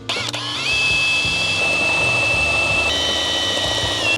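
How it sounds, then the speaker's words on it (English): A power drill with a 4mm bit spins up and bores through a snorkel bracket on a GWM Cannon, a steady high-pitched whine held close and loud for several seconds, dipping slightly in pitch as the bit bites. "so now we're gonna get the 4mm drill bit and drill that out."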